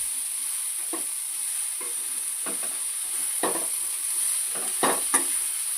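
Coconut masala paste goes into vegetables frying in a pan for a vatana padwal masala bhaji, with a steady sizzle and several scraping stirs of a spoon scattered through.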